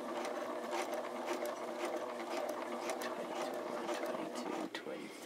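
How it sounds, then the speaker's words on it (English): A sewing machine stitching on a scrap of fabric runs steadily and fairly close, a continuous mechanical whir with rapid clicking needle strokes and no pause. "Stitch and count 20 to 25 stitches on a scrap of fabric."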